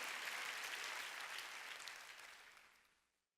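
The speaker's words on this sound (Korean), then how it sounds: "박수로 하나님께 영광을 드려요" Sustained applause from a church congregation, dense and steady, fading out over the last second.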